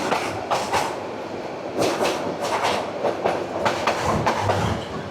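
The Mahanagar Provati train from Dhaka to Chattogram passes Tejgaon railway station, its wheels beating a steady clickety-clack rhythm with repeated bursts of rattling from the carriages, heard from on board at moderate loudness.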